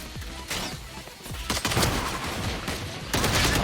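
Rapid bursts of gunfire in the tactical shooter Valorant, several dense volleys close and loud, overlapping and continuous across the moment with brief lulls between bursts.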